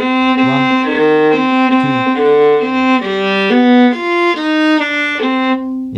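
A viola plays a C melodic minor scale in even quaver triplets at a slow tempo, three bowed notes per beat stepping through the scale, clear and close with no talking.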